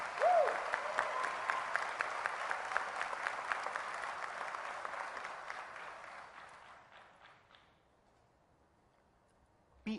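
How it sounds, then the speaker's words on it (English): A graduating-class audience at a University of Illinois Chicago winter commencement in 2015 applauds loudly and steadily, the dense clapping fading gradually over several seconds to near silence. "Yes, you guys can clap at that"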